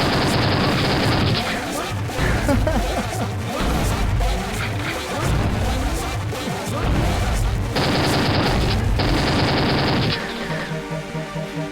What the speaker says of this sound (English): This is the machine gun.